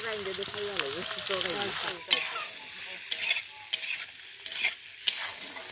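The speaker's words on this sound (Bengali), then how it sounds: "কষানো পেঁয়াজগুলো আমি দিয়ে দিচ্ছি।" Fried onions tipped into a sizzling pan for a picnic curry, with a voice talking over the first two seconds, then steady frying hiss broken by several sharp scrapes and clanks of stirring.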